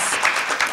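Applause for the panelists at a seminar panel discussion on child-friendly regions; a brief burst of dense clapping from many hands in a room, without speech.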